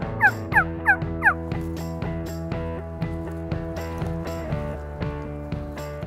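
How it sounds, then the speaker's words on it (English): Wild turkeys gobble repeatedly in a windy spring setting, several loud, close rattling gobbles in quick succession at the start, then fainter answering gobbles and clucks continuing over a steady low background. "They were gobbling good."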